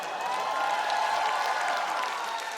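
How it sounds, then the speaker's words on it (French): Theater audience applauding between scenes, a dense, sustained wash of many hands clapping that fills the hall evenly throughout. "Entre deux scènes, les applaudissements emplissent la salle d'un bruit sourd."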